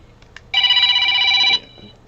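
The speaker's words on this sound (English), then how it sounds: "Hey, Ellison, I got Ellison on the phone, but Ellison, I have to call you right back." A telephone rings in a radio studio with one steady electronic burst of about a second, loud and clear against a quiet room.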